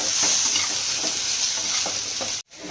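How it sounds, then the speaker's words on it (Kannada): Cumin seeds sizzle and crackle in hot oil in a pan as they are stirred, a steady close frying hiss with scraping stirs that cuts off abruptly near the end. "ಜೀರಿಗೆ ಹಾಕಿ ಗ್ಯಾಸ್ ಬಂದ್ ಮಾಡ್ಕೊಂಬಿಡಿ ಕೈಯಾಡಿ ತೆಗೆದ್ಬಿಡಿ"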